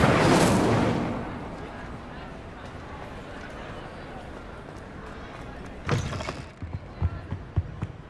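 The Incendio fire spell cast in Hogwarts Legacy, a loud roaring whoosh of flame at the start that fades into rumble, followed later by a second burst and scattered thuds.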